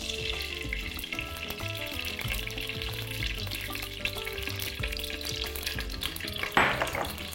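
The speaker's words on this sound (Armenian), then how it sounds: "Եվ սոխն ենք տապակում" Onion fries in olive oil in a pot, a continuous close sizzle with light stirring scrapes and a brief louder burst of spitting near the end. No one talks.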